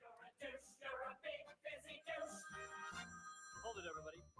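A phone ringtone chimes in a radio studio as a sustained, steady tone running through the middle of the clip, partly overlapping talk at the start and end.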